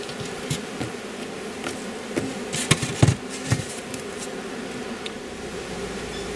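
Honey bees buzz steadily in a close swarm at a hive entrance, with louder individual insects zipping past now and then.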